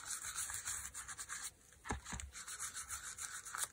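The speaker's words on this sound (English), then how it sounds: "So you just put a little bit on your finger, and then you rub it in." A fingertip rubs paint onto a paper towel roll made into ephemera, making soft, rhythmic scratchy rubbing strokes close by. The sound is quiet, with a brief pause in the middle.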